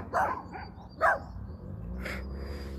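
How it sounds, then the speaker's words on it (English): Dogs barking nearby, a few short sharp barks spaced about a second apart over quiet background hum. "The dogs will stop barking in a minute."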